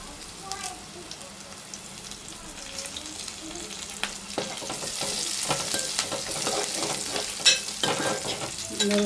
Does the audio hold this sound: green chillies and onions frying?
yes